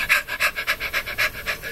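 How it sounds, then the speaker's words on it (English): Rapid rhythmic breathy panting of chimpanzee laughter, about eight quick pulses in a steady pattern, close and fairly soft. "That panting sound you hear is chimpanzee laughter."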